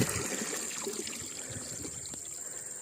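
A weak, thin trickle of water runs from a solar-powered pump on a Musang King durian plot, close and continuous over a soft steady background.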